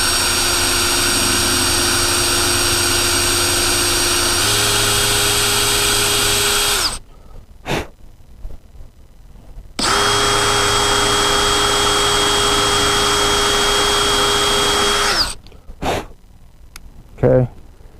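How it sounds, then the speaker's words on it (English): A power drill bores into wood for a round farmhouse table, whirring loudly in two long sustained bursts, its motor pitch shifting mid-run, with brief pauses and small clicks between. "Take our drill bit, put it in our drill, and drill that hole."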